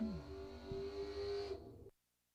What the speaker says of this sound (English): Watch the burnouts, Jeff.